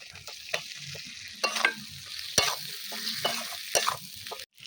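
Potatoes stirred into a cooked-down spice masala for Kashmiri aloo dum, a soft sizzle broken by repeated scraping stirs of a spoon against the pan, several distinct strokes close up.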